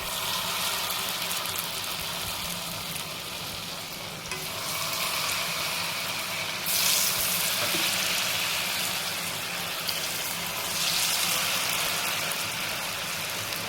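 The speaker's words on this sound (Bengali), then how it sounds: "এবার এই বেটারটার মধ্যে একটা করে আলুগুলোকে আমরা চুবিয়ে ওই তেলের মধ্যে ছেড়ে দেবো" Battered potato fries fry in hot oil with a steady, dense sizzle and crackle close by, swelling briefly as more pieces go into the pan and otherwise holding an even hiss.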